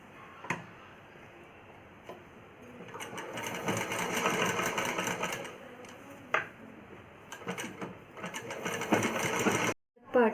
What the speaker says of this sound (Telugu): ఇది డబుల్ స్టిచ్ చేసుకోవాలి